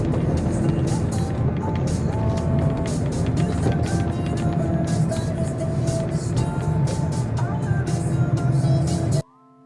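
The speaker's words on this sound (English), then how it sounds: "I'm gonna turn that on and wait for my car to warm up" Car engine idling as it warms up on a frigid winter day of about minus 40, a steady low rumble heard from inside the car, with voices talking over it before it cuts off.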